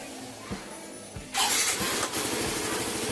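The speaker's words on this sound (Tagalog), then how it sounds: "I-start ko ulit yung makina." A Yamaha Mio M3 scooter engine starts up after a couple of faint clicks, catching abruptly and settling into a steady nearby idle with a slight rev.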